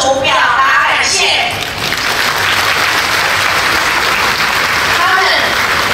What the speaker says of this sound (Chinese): 我在这里要借各位的双手，用掌声向我们现场获奖的海洋之功及海洋各项贡献奖的得主表达感谢